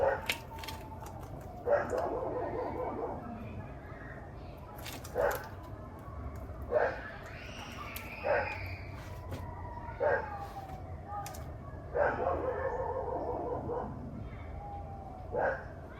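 A dog barks repeatedly in short bursts scattered through the clip, with a faint siren-like wail and some background voices.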